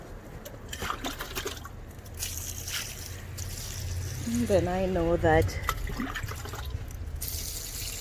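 Water trickles and drips steadily down through an outdoor red wiggler worm bin beneath a person speaking, with soft wet squishing sounds close by.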